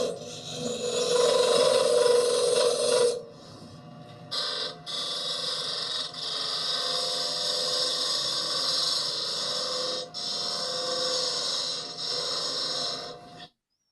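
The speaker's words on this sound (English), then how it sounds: "I'm just going to use a skew as a negative rake scraper" A woodturning skew chisel held flat as a negative rake scraper rasps steadily against spinning wood on the lathe, loud and continuous with a brief pause near the start and short breaks, no talk.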